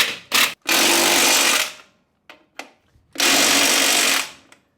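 A Ryobi power tool drives lug nuts onto a 1966 Jeep CJ5 wheel in loud, close bursts: a short rattle, a long whir, two brief blips, then another long run.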